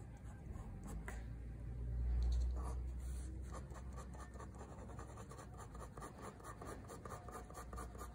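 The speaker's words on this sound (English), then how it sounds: "I'm using a 5B pencil, but I'm barely touching the paper" Soft 5B pencil strokes lightly scratch across paper in faint, close, irregular rubs and scribbles, quiet against low background hum.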